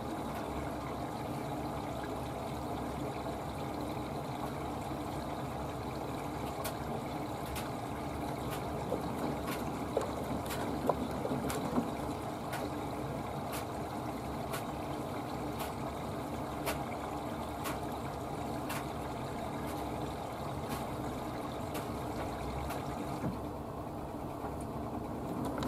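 A Samsung Digital Inverter WW90K5410UW washing machine runs its first rinse on a cottons 95 program, with steady water swishing and motor hum plus regular soft clicks or thumps repeating through the whole span.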